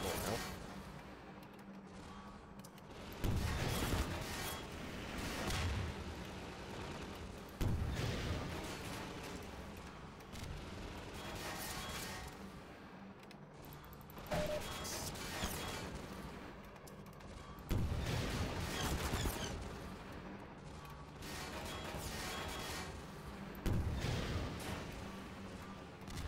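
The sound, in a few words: rocket launcher firing in Half-Life 2 Lost Coast, video game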